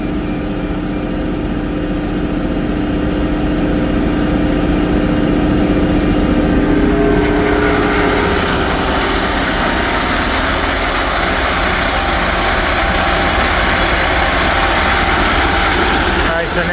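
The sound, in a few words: conveyor, shaker and tailings belt machinery running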